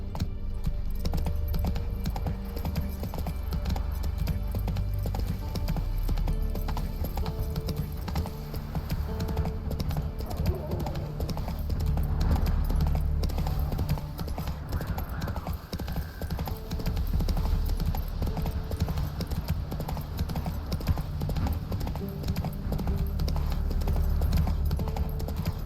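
The horse Roach galloping in The Witcher 3: Wild Hunt, a steady rapid drumming of hooves that runs unbroken and fairly loud throughout, with game ambience beneath.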